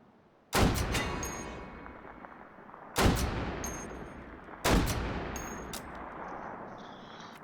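Three heavy booming shots from a semi-auto .50 cal rifle in the VR shooter H3VR, spaced a couple of seconds apart, each a sharp loud crack followed by a long rumbling tail, with no speech.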